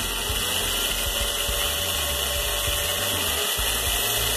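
A power drill whines steadily at close range, its motor note holding constant with low rumbling shifts as it bites into wood while building a train table.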